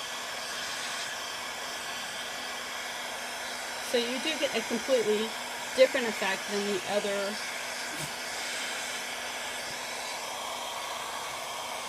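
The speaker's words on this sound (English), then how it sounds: "You can use a hair dryer on a lower setting or a medium setting." A hair dryer on a low to medium setting blows alcohol inks across paper, a steady close airy hum throughout, with someone speaking over it midway.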